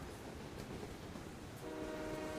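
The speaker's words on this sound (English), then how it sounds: "Atop the stolen train." A stolen train rolls along the rails in the video game West of Loathing, a dense continuous rumble with faint rhythmic clatter and a low tonal hum emerging near the end, no talking.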